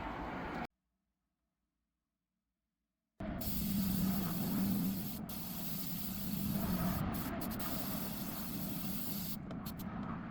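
Steady hissing spray from an aerosol can of black Plasti-Dip rubber coating, sprayed on the back of a betta fish tank, running continuously after a short silent gap, with brief pauses near the end.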